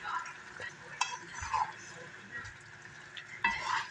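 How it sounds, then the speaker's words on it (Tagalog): Beef cooking in a pan sizzles softly as mushrooms are added, with stirring scrapes and a few utensil clinks against the pan, while a voice talks quietly in the background. "Then, lagay natin yung ating mushroom."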